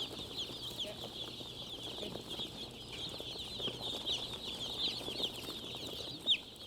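Young chicks being placed on the floor of a poultry house brooding chamber, a dense continuous chorus of high cheeping from many birds at once, fairly faint over a low background hum, with one brief louder sound near the end.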